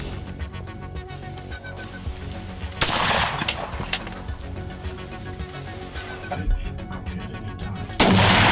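High-powered .30 caliber rifles fire during a feral wild boar hunt on Spanish farmland, with sharp loud shots breaking out at a few separate moments over a steady outdoor background.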